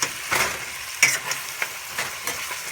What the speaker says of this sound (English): it's been sauteing for a couple of minutes